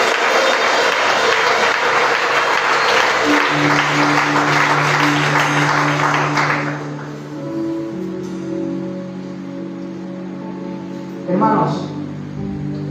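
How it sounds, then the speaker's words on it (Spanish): A church congregation in a Spanish-language service gives a loud burst of applause that fades after about six seconds into sustained organ or keyboard tones, with a brief rustle late in the clip. "Brinden un fuerte aplauso al Espíritu Santo de Dios."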